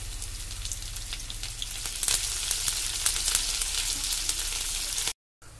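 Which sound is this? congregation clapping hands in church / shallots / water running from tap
shallots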